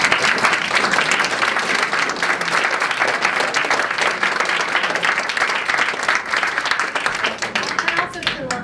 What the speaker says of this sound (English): we are safe and free to give a round of applause to our wonderful panel